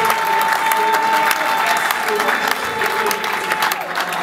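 A congress hall audience gives sustained, dense applause, loud and close, with crowd noise and voices mixed in throughout.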